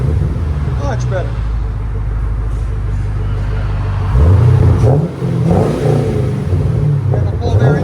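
A 2014 Chevy Camaro 2SS with a 6.2L V8, X-pipe and Magnaflow exhaust rumbles at a deep idle, then revs up in a few swelling bursts before settling back, loud and close with a voice speaking over it.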